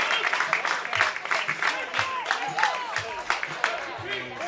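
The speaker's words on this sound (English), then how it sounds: "you'll hear our Austin High faithful cheer for that one" The Austin High home crowd cheers and claps at a high school baseball game against Bowie, with a lively burst of applause and voices that stays moderately loud throughout, while a commentator talks over it.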